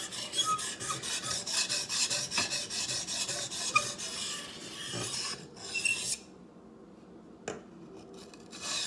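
A hunting knife is stroked against a sharpening stone while its bevel is established, producing a steady, close, rhythmic rasping of quick repeated strokes that stops after about six seconds, with a couple of light clicks afterward.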